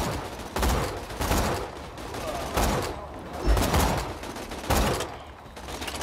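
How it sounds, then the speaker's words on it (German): Bursts of rapid gunfire in Borderlands 2, repeated volleys, loud and close, with a voice talking intermittently underneath. "Oh, das war ein Magazin, jeder Schuss ein kritischer."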